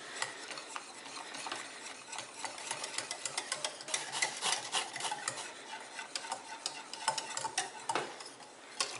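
Marseille soap flakes being stirred into just-boiled water in a pot off the heat, giving a steady scraping, swishing churn with light clicks throughout, fairly close and with no talking.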